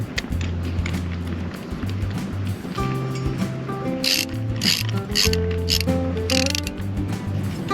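A ratchet turns bolts through a dinghy wheel mount on a Highfield CL290 transom stand-in, giving rapid close-up clicking bursts in repeated strokes with short pauses between them.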